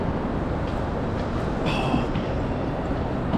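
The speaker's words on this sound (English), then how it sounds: "So this is the train station." Loud, steady rumble of a train with a brief high metallic squeal in the large, echoing space of a Milan train station.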